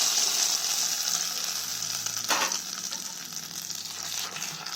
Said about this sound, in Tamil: போட்டு அது பொறிஞ்ச உடனே நம்ம கடைஞ்சிகிட்டு இருக்க கீரையில் ஊற்றி திருப்பி கடையணும்